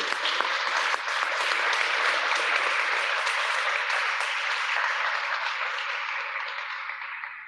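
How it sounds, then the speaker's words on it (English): A scientific conference audience applauds steadily for several seconds, dense clapping that stays loud throughout and fades slightly near the end. "So another round of applause for them."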